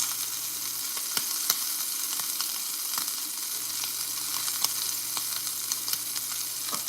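A steak sears in a cast-iron pan after being flipped, giving a continuous loud sizzle peppered with small pops and crackles throughout, with no speech.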